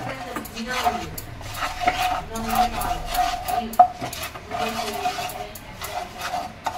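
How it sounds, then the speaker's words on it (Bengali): Spoon stirring sugar into a bread-and-milk sweet in a pan, a continuous scraping and clinking against the metal with faint rubbing, steady and close, no talking. "এইবার এটাকে অনর্গল নেড়ে যাবো"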